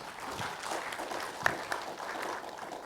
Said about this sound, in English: A big applause to Anthony.